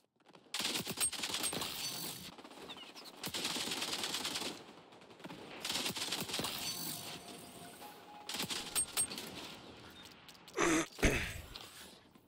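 Bursts of RPK machine gun fire in the XDefiant shooter game, several separate volleys of rapid shots fairly close, with short gaps between them and a brief sharper clatter near the end.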